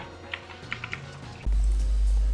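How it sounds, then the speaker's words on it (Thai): A few quick, light computer keyboard key clicks sound during gameplay of the Roblox game Ghoul://Re, followed by a sudden loud low rumble from the game. "แล้วก็ผมขออภัยเสียงคีย์บอร์ดในคลิปด้วย"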